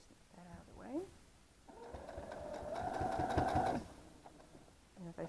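A sewing machine stitches through layered quilt fabric in one continuous run of about two seconds, a steady close whirr with short voices before and after it.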